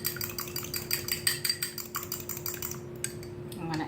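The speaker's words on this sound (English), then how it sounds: "I'm going to go ahead and beat this egg." An egg beaten in a bowl with a utensil, giving a quick steady run of close clicking and tapping strokes that stop near the end.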